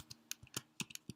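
Keys tapped on a computer keyboard while entering a short Linux terminal command, about seven distinct clicks in an uneven rhythm, close and fairly quiet with no talking.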